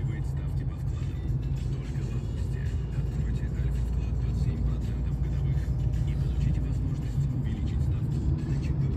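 A car drives along a road in Russia, making a continuous, fairly loud rumble of engine and tyre noise that stays even throughout.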